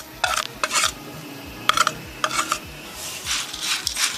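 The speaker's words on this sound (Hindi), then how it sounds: "इसी तरह मिक्स करेंगे" Spices are stirred into hot fried chana dal on a plate, giving soft, close scraping and rubbing sounds in short, uneven strokes at a low level with no speech.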